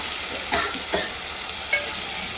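Squeezed tomato goes into a pan of browned frying onions, bringing a steady sizzle broken by a few sharper spatters and stirring scrapes, close and moderately loud, with no talking.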